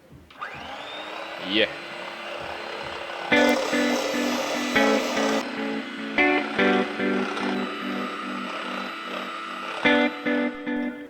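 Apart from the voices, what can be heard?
hand mixer whipping heavy cream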